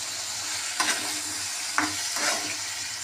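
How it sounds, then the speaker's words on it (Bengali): Potatoes fry in spices, sizzling steadily in hot oil while a spoon scrapes and stirs the pan two or three times. "এবার এই মশলার সাথে আলুগুলো সুন্দরভাবে ভাজা হয়ে যাক"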